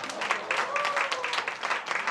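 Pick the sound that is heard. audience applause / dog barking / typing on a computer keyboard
audience applause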